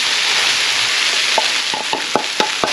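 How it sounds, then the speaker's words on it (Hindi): Boiled rice and vegetables fry in a hot pan with a steady, dense sizzle, broken by a few sharp scraping stir strokes near the end. "दो से 3 मिनट के लिए हमने ये चावल फ्राई कर लिए हैं।"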